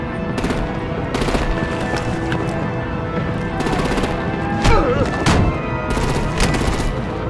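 Rapid bursts of automatic artillery gunfire rattle through a Batman: The Enemy Within video game scene, with repeated volleys and a few heavier blasts over a steady loud background, and faint voices mixed in.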